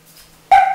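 A dog at home gives a single sudden, loud tonal bark or yelp that trails into a brief whine, standing alone after a quiet background.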